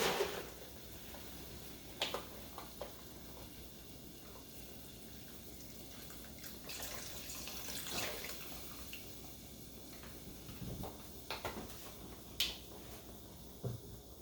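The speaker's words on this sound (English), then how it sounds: "I'm going to finish it off with some water" Water poured into a pot of chicken soup, a soft continuous splashing trickle with occasional small clinks and drips, faint and close, no talking.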